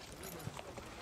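Horse hooves clip-clop faintly in a TV scene, a few soft irregular hoof beats under a low, muffled background.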